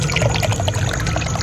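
Water gushes loudly from a pump motor, a close, continuous rushing and splashing flow with no speech.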